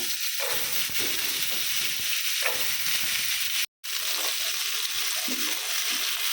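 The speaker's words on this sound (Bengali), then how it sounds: "এখন সেম তেলে আলু ভাজব" Potatoes frying in oil with a little turmeric and salt, a steady close sizzle broken by a brief dropout partway through, with faint stirring sounds.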